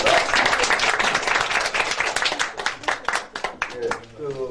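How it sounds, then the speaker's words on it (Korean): Steady applause from an audience for two speakers at a Korean lecture event, dense clapping filling the whole stretch before it thins and fades at the end. "두 분께 다시 한번 박수 부탁드립니다."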